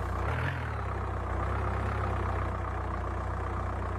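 A damaged vehicle engine idling in the video game Survive The Nights, a steady low rumbling drone that continues evenly throughout after a brief low thump at the start.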